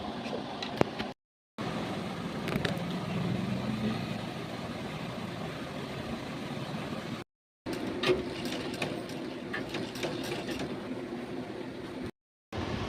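An electric sewing machine stitching dresses runs in a steady whirring drone, broken by a few brief pauses, moderately quiet and close with no talking.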